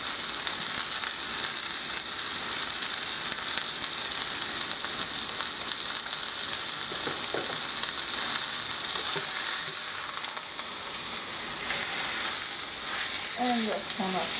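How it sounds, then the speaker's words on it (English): Meat seasoned with onion powder and pepper fries in a pan, a loud continuous crackling sizzle with occasional soft stirring clinks close by. "Kind of stir in the meat."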